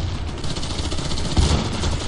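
Gunfire in the shooter game Warface: dense, continuous rapid shots with heavy low thumps, loud and close, with a sharper burst of impacts partway through and no talking.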